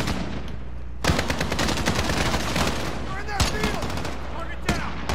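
Gunfire in Call of Duty Modern Warfare, sharp shots and bursts cracking out over a continuous low game rumble, a few especially loud reports standing out, with faint whooshing effects between.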